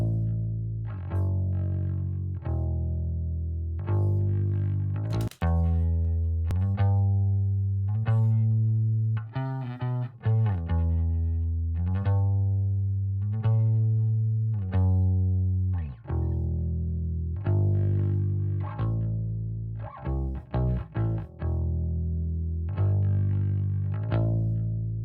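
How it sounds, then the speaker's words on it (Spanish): A Jazz or Precision electric bass played through a dry direct line carries a melodic run of sustained low notes, up close and alone. "este es el sonido de línea del bajo"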